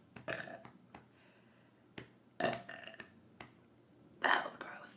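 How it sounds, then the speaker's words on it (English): Several belches and short bursts from a person after gulping down ramen without chewing, close and uneven, separated by sharp clicks and mixed with soft whispered talk. "Do I have to burp?"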